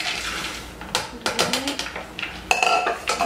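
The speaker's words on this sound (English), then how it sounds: "Just stir them around." Pecans stirred in a bowl for pecan pie, several close clinking scrapes and taps of a utensil against the bowl in quick irregular bursts.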